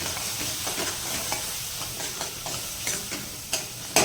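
Onion, tomato and masala stirred in a pan for a moong masala dish, a steady close sizzle broken by soft spoon scrapes that come faster toward the end, with no voices.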